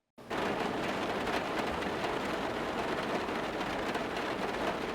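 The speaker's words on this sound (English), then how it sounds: "Right here in the van, it's hearing the raindrops hitting the van" Steady, dense rain drums on the hollow metal body of a van, a continuous reverberant patter that starts abruptly and holds at an even level throughout, with no voices.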